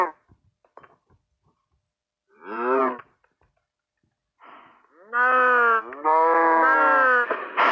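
A cow in Minecraft moos several times. One short low call comes first, then a longer run of drawn-out, wheezy moos, clear and close against near silence.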